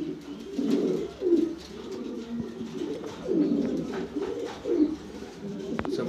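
Two male grizzle pigeons cooing in a loft, repeated soft low coos in uneven bursts, close by, with faint background noise and no clear talking.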